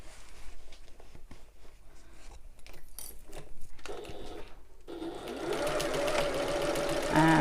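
A sewing machine stitches along the side of a shoulder bag, starting with quieter handling and scattered clicks, then running in a steady, loud continuous whir for the last few seconds.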